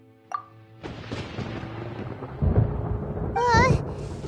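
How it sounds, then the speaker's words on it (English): Thunder in the Genshin Impact video game: a sudden crack followed by a deep rolling rumble that swells toward the end, mixed with game effects and a brief chime. "Paimon hears thunder!"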